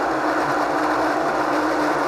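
Steady, loud grinding of coffee beans through an espresso grinder into a portafilter, a dense continuous whir without pause.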